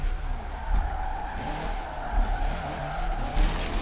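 A Raptor Ranger drift truck slides sideways at lower speed near grass, its tires skidding with a steady rough hiss and scrub that swells and eases in several surges over the engine's low drone.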